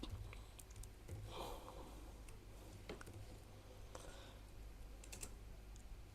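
Quiet, scattered keystrokes tap on a computer keyboard in an irregular rhythm over a low steady hum, with no voices.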